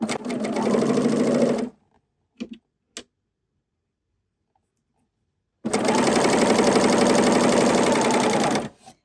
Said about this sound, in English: I'm going to use this for my cover stitching as well as this overlock stitching.